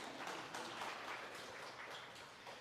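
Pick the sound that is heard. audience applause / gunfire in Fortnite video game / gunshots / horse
audience applause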